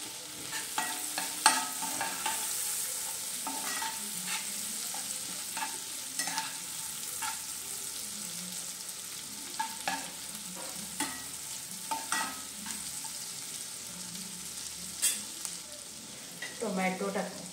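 Green chillies, ginger and garlic sizzle and fry in a pan, with steady crackling broken by stirring scrapes and clinks, close and moderately loud, with no talk.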